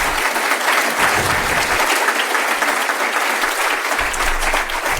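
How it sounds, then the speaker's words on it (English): Steady, loud applause from a conference audience at a hardware security event right after a talk ends, dense clapping filling the whole stretch without pause. "You're clapping without even being asked."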